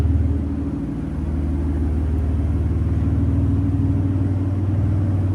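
A 600-plus horsepower Aston Martin Vanquish V12 idles nearby with a deep, steady, even rumble and a faint pulsing beat that holds for the whole stretch.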